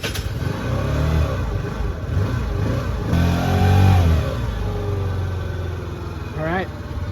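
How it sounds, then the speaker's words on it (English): A 49cc scooter engine starts with the key on and a little throttle, then revs up and down in short bursts before settling, loud and close, with brief speech over it. "keys on, give it a little gas."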